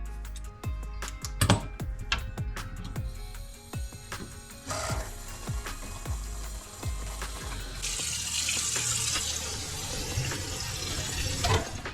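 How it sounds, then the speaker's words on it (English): Water starts running from a newly installed faucet in a small laundry room, a steady hiss that follows a series of sharp mechanical clicks and knocks from turning the tap and fittings, close and moderately loud. "So I'm going to turn the water on."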